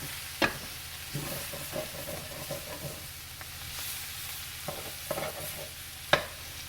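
Food stirred and frying in a skillet as it starts to stick and scorch at the bottom, with a steady low sizzle and scattered scraping clicks from the utensil against the pan.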